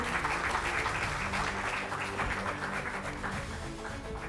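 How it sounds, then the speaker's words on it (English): Applause from the audience at an Indian corporate social responsibility conference as a retired army major general is honored on stage, steady dense clapping filling the hall and fading slightly toward the end. "A huge round of applause, ladies and gentlemen"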